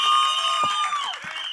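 An audience at a film trailer launch claps and cheers for actor Shahnawaz Ali, a brief burst of applause with whoops and a rising whistle-like tone over it.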